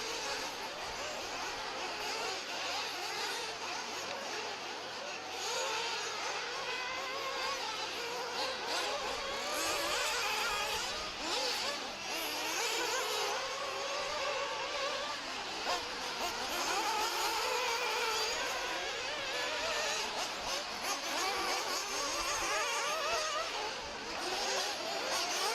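Nitro RC buggies, including an old-school MBX4, whine and buzz during dirt track practice, a thin, high-pitched engine rasp that rises and falls continuously at a moderate distance.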